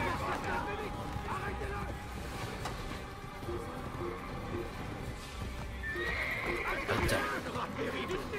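A horse whinnies with hooves clopping in the background, while a voice exclaims over it, in an Assassin's Creed video game.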